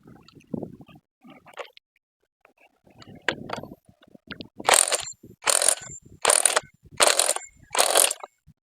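A socket ratchet wrench works on a chainsaw clutch assembly, giving five loud, evenly spaced bursts of metallic clicking near the end, after scattered soft handling knocks and taps.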